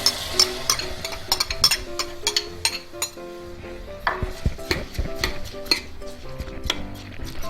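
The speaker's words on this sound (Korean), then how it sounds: "불려놓은 쌀을 넣고 볶아주실 거예요" A utensil scrapes and clinks against a pot as soaked rice is stir-fried with oil and shredded radish, with irregular metallic taps and a faint sizzle, close by.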